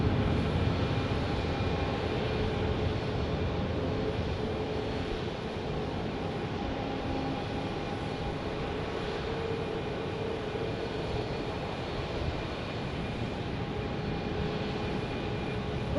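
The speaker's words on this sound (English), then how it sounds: "Sun Country 737-800 to Minneapolis." A Sun Country Boeing 737-800 jet bound for Minneapolis at Phoenix Sky Harbor Airport produces a steady, distant engine rumble and whine that holds an even level throughout, with no talking.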